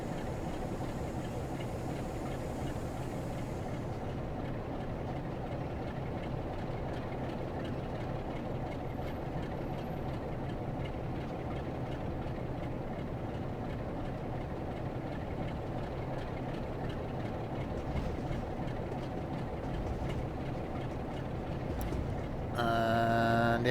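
Loco-hauled train braking into St Austell station in Train Sim World 2, a steady low rumble of engine and wheels running on, with a brief brighter squeal near the end.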